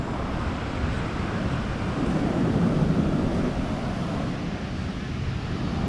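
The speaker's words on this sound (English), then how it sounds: "I just love this beach because you just hear the sound of the waves" Ocean surf rolling onto a palm-lined beach in Itacaré, Bahia, at low tide: a steady, broad wash of waves with gentle swells in intensity, mixed with wind buffeting the microphone and no voices.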